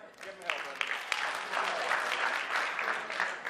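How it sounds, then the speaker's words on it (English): Audience applause for a volunteer named Bernie at a motivational health and work-life balance talk: steady, dense clapping from a sizable crowd that swells quickly and holds without a break. "Can we give Bernie a round of applause?"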